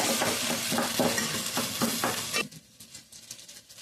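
Egg fried rice is stirred and tossed in a pan over high heat, a dense sizzle with rapid rhythmic scraping and clanks for a few seconds before it drops to a quieter hiss with a few scattered taps.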